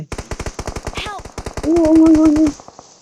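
Rapid machine-gun fire from a video game rattles in a steady, loud burst, with a raised voice briefly sounding over the shooting.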